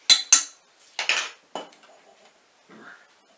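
A spoon stirs freshly made juice in a glass, with a few sharp metallic clinks against the glass in quick bursts, then softer scraping and a faint final tap.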